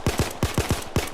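A Glock 17 (Chimano 88) pistol fired in Payday 2, rapid sharp shots in quick succession, about a dozen punchy bangs in just over a second, close and loud.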